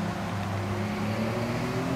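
A BMW M3 in the video game Gran Turismo 7 accelerates with a steady, droning engine note whose pitch rises slightly over two seconds, with no talking.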